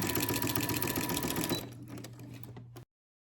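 A sewing machine stitching quilt binding, a fast close-up run of rapid mechanical chatter that slows near the end and then stops abruptly.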